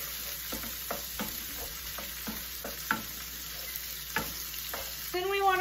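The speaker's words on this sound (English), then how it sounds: "Then stir in the shallots." Shallots stirred in a hot frying pan, a constant close sizzle broken by rhythmic scraping strokes of the spoon roughly every half second, with no voices.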